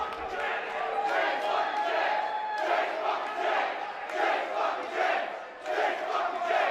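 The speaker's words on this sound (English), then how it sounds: "The crowd righteously behind Chase James in this." Wrestling crowd at a live independent show roars continuously, a loud dense mass of yelling and cheering that swells and dips in waves, with a voice or two standing out.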